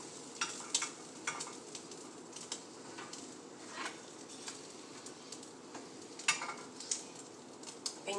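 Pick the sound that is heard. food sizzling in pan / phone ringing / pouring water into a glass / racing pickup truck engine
food sizzling in pan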